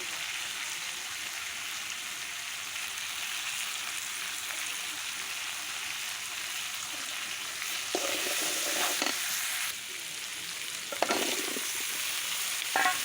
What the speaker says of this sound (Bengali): আলুটা একটু ভাজা ভাজা করে গোটা লঙ্কা দিয়ে তারপরে আমি কলাটা দিয়ে দিলাম এখন কলাটা একটু কষিয়ে নেব